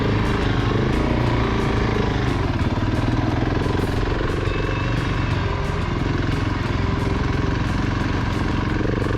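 A Honda Africa Twin and a KTM 690 adventure motorcycle ride along a graded forest road, their engines droning steadily and loudly throughout with a constant rumble and no pauses.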